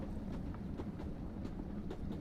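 Steady low rumble and rhythmic clatter of a train running in the zombie survival game On the Train, continuous and fairly quiet, with faint periodic clicks throughout and no talk.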